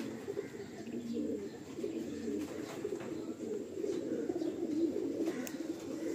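Pigeons coo in a steady, low, overlapping murmur, several birds close by with a few faint clicks and rustles, no talking.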